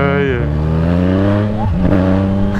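Motorcycle engine revs steadily with rising and falling pitch, close and loud throughout while a person talks over it.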